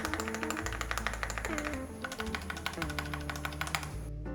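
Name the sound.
typing on a 65% custom mechanical keyboard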